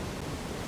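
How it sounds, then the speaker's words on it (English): Roaring river swollen by torrential rain in a forest, heard as a steady, dense broadband rush of water with no breaks or voices. "the only sound that could be heard in the forest that day was the roaring river"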